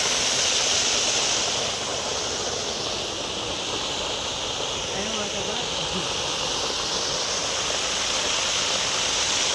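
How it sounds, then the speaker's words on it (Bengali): A park waterfall gives a constant broad rush of falling water, steady and fairly loud, with no distinct breaks. "ঝর্ণা এটা একটা"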